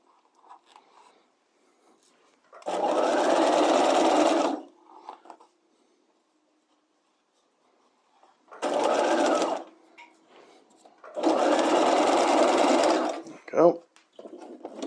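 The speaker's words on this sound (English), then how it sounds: "I'm sewing the side seams of my facings right now." A sewing machine stitching the side seams of fabric facings runs in three steady bursts of a few seconds each, close and clear, separated by quiet pauses with small handling clicks.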